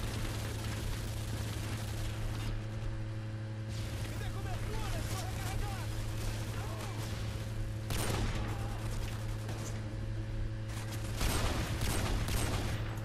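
Video game gunfire shot blindly into smoke: a steady crackle of distant shots under a constant droning hum, with louder bursts near the end and people talking over it.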